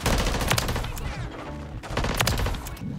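Gunfire in the Call of Duty video game rattles out in rapid, loud automatic bursts with a short gap midway, the crackling shots dense and close with game sounds underneath.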